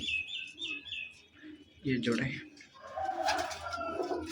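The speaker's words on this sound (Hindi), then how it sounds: "ये आपको पट्टी वाले कबूतर दिखा रहा हूँ।" Striped pigeons in a breeder's loft give soft coos and chirps in short bursts, close by, while someone speaks briefly over them.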